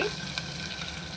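Garlic hitting hot oil already crackling with mustard seeds, cumin, bay leaf and marathi moggu, a steady close sizzle with one brief pop near the start and no voices.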